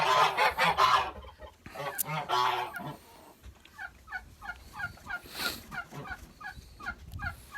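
Kholmogory geese honk and gabble in a run of repeated calls, close by, with some louder raspy cries early on and a rhythmic series of honks later.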